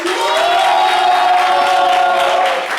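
A live French-language stage show's audience cheers and whoops loudly for a guest called up to the microphone, a dense roar of crowd voices that holds steady for about three seconds.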